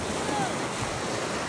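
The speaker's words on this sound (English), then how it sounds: "Well, anyway, the ocean waves." Surf washing onto a busy beach on a day after overnight thunderstorms, near low tide, a steady broadband wash with wind rumble against the microphone and no clear individual breakers.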